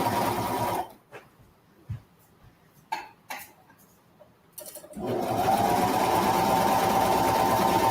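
A sewing machine stitches the waistband of kids' boardshorts in a loud, steady whirring run, pauses briefly amid a few clicks and small handling noises, then resumes running continuously to the end.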